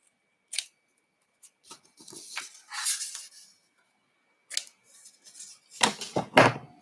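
Scissors snip through the ends of a handmade folded-book Christmas card in a quiet crafting room, a few short separate cuts followed by a busier cluster of snips and paper rustle near the end.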